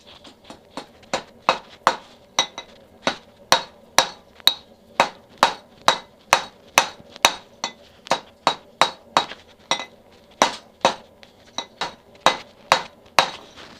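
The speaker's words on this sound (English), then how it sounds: "I'm going to be hammering them" Hammer blows on MIG-welded metal pieces being shaped to a point in a backyard blacksmith setup: a long, steady series of sharp metallic strikes, roughly two per second, close and ringing, with brief pauses between runs.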